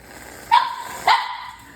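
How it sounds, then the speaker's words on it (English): Two sharp dog barks ring out about half a second apart, close and fairly loud against a quiet background. "My dogs will bark. This is an instant bark noise."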